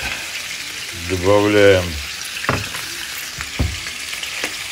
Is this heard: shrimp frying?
yes